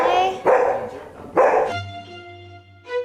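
Ginger, a dog, lets out two sharp, loud barks indoors, followed by a brief higher yip at the end, with a voice talking over the barking.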